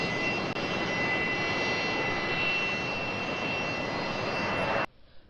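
An aeroplane engine roars as a loud, steady broadband rush with a high whine, continuous for about five seconds before cutting off abruptly.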